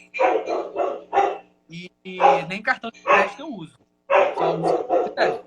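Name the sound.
A dog barking during someone's live stream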